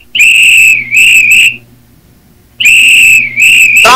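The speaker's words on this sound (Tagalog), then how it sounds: "Sino po yung pipipito dyan?" Shrill whistle blown close and loud in two bursts, each made of several quick blasts, separated by a short quiet gap.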